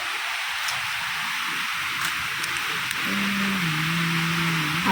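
Rain falling outside, a steady broadband hiss that fills the whole stretch evenly at moderate level, with a faint low hum entering toward the end.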